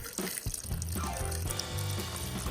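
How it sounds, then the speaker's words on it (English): Water is poured steadily into a pressure cooker of soup, a continuous close splashing stream lasting a couple of seconds with no talk. "And the last thing I'm gonna add is 4 cups of water."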